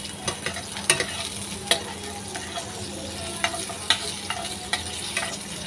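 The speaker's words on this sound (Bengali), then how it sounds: "আর এখন সব কিছু একসাথে আমি ভালো করে নেড়ে চেড়ে ভেজে নিচ্ছি" Onion, garlic and dried chilli frying in hot oil, with a steady sizzle under repeated sharp clicks and scrapes of a spatula stirring the pan, close and without talk.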